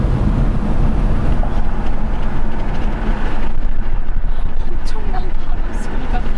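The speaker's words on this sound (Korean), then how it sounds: "엄청난 바람 소리가 들리네요." Strong wind rush roars through an open window of a BMW 530e plug-in hybrid while driving, a steady broadband buffeting that fills the clip without a break.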